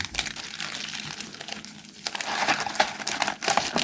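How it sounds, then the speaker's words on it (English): Crinkly rustling and crumpling of Pokémon card foil booster packs being shuffled in a box, close up, uneven bursts of crackling with a brief lull midway. "I'm going to do a little shuffle of the box."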